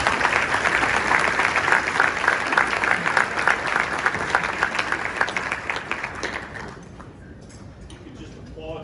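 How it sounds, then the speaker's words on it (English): Sustained audience applause at a formal awards recognition dinner, dense clapping from a large crowd that holds steady for about six seconds and then thins and fades. "You just applaud for a little longer there."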